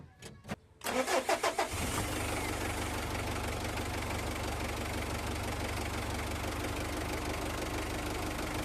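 A Mitsubishi L300 engine is started: a few clicks, then a short cranking rhythm that catches into a loud, steady, slightly knocking idle that carries on to the end.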